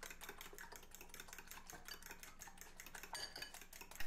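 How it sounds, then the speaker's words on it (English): Six large eggs, a tablespoon of milk and half a teaspoon of salt being whisked in a medium bowl, with a quiet, rapid, even run of clinking strokes that continues throughout. "We'll keep whisking until the mixture is nice and smooth and well combined."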